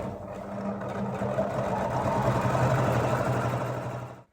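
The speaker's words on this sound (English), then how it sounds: "I'm just going to sew right along the edge of the folded down casing" A sewing machine stitching along the folded edge of a fabric casing on a produce bag made from curtain scraps, running as a steady, close mechanical whir for about four seconds before stopping abruptly.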